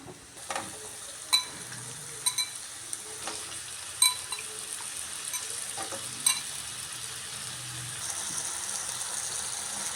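Soft, steady sizzling of potato slices frying in a pan over medium flame, broken by occasional sharp clinks and scrapes of a utensil, with no voices.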